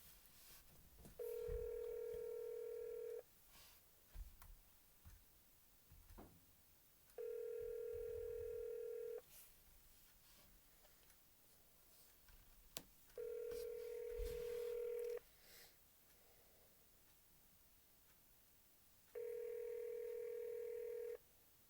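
Four evenly spaced ringback tones of about two seconds each sound while a phone call to a congressional campaign office connects, a steady electronic purr separated by quiet pauses.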